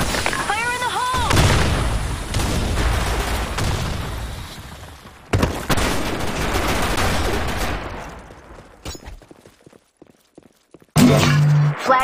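Grenade blast and gunfire in a Sand Storm capture-the-flag match of an online shooter game, loud bursts of fire and booms that cut in and out, with game voice callouts at the start.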